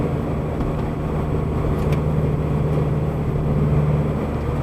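Inside a Subaru BRZ cruising through a neighborhood after a vibration fix, the exhaust gives a low, steady hum with a faint mid-range drone, even and fairly quiet throughout, with no talking.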